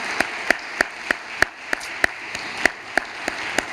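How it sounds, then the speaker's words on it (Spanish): Slow, evenly spaced hand claps ring out in a church gathering for the mothers, each clap sharp and distinct against a faint room hiss, steady in tempo throughout. "Un aplauso a todas nuestras mamás"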